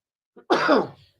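A single sneeze on an Italian live radio broadcast, a short faint intake followed by a loud, sharp burst that trails off, close to the microphone and alone.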